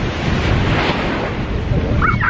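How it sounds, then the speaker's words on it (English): Surf crashing on the shore at Makena Beach, a dense, loud roar of rough waves with wind buffeting the microphone, no voices. "Waves just crashing in the shore like crazy,"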